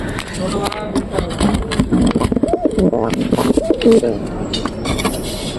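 A pair of pigeons coos in repeated low, rolling calls, moderately close, with voices talking over them and a faint engine hum in the background.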